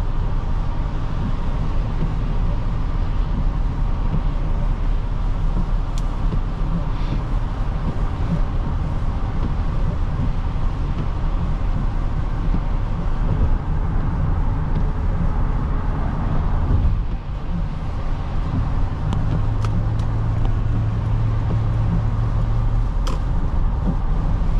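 A 2007 Toyota Avalon Limited accelerates on a highway, its low engine and road noise heard from inside the cabin as a steady, fairly loud rumble with wind hiss over it.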